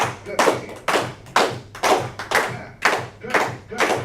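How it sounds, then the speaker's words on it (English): An audience at a Rivera Palms stage performance claps in unison to a steady beat, about eight sharp, evenly spaced hand claps in quick succession. "Everybody clap your hands."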